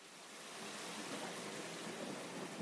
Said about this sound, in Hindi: आधी रात में जबरदस्त तूफान आई और जमकर बारिश भी हुई